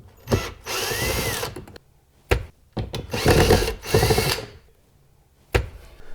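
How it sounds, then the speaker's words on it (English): A power drill on a low torque setting whirs in several bursts while removing screws from a 2009-2015 Honda Pilot door, stopping and starting with clicks and clatter between runs, close and loud. "If you're using a drill like I am here"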